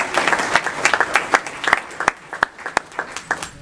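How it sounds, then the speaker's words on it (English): Attendees at a CCIM Georgia chapter meeting applaud the introduction of an office panel moderator, lively clapping with crisp individual claps up close that tapers into scattered final claps. "Let's give a big round of applause"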